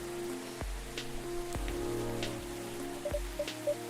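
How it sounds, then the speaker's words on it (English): Rain falls in the video game Coffee Talk, a soft steady patter with drips and plops over a calm melodic game soundtrack. "It's raining but no storm, I guess."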